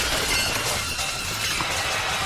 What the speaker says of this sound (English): the whistling tears through the air, shattering windows and storefronts for hundreds of meters around